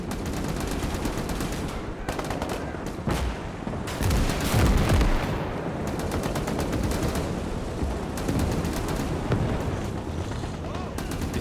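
Heavy .50 cal machine gun fire from the game Gates of Hell, in long rapid bursts under continuous battle noise with booms and explosions, loud and sustained, with someone talking over it.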